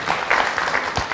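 Audience applause rings out for a Jogi folk song on a televised singing reality show, a steady burst of clapping that fills the whole moment without voices.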